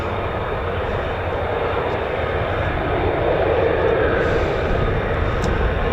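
Military jet traffic at RAF Lakenheath, F-15s and F-35s, a steady broadband engine roar held at an even level throughout, somewhat distant and continuous with no speech.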